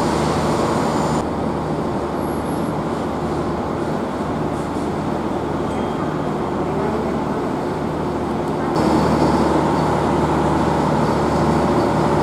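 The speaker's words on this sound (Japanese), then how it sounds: "3番乗り場から回送列車が発車いたします。" An out-of-service train pulls away from platform 3 at Nagasaki Station, a steady low rumble of rail and engine noise that swells noticeably louder toward the end, with no speech.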